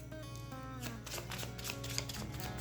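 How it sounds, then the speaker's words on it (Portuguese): Tarot cards shuffled by hand during a Cigano deck reading, a steady soft riffling and slapping that runs continuously at close range with no talk over it. "eu ainda estou baralhando"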